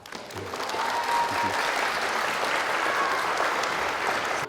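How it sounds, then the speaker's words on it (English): School museum night audience applauding a student presenter, dense continuous clapping rising quickly and holding steady for several seconds. "If you would give him a round of applause."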